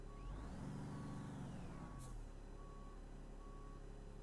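Truck reversing beeps in the Truck World: Australia video game, a steady series of evenly spaced electronic beeps over a low idling diesel engine, with a brief air-brake hiss midway.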